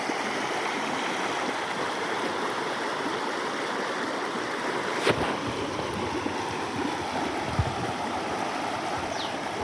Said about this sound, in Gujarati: ચેકડેમ ઓવરફ્લો થઈ અને પાછું ઓગામાં જ આવે છે પાણી